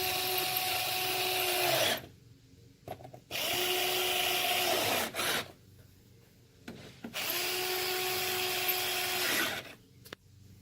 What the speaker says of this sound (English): Got my trusty Black & Decker. Always have Torx on hand for BMW.